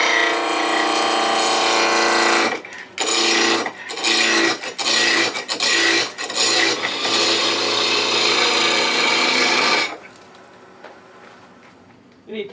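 A wooden bug pull toy blank spins on a lathe as a gouge cuts a bead, giving a loud, harsh, continuous shaving hiss over a motor hum, broken by several short pauses before the cutting stops and only the motor whirs.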